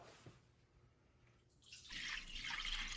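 Six cups of water are poured into a wok for tteokbokki sauce, starting after a quiet moment and building into a steady, fairly loud splashing stream near the mic for the final second.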